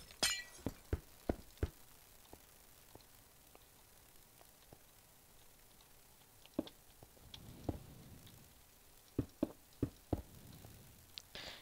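Glass blocks being placed and broken in Minecraft: quiet, irregular clinks and tinkling shatters, some single and some in quick clusters, with no talk.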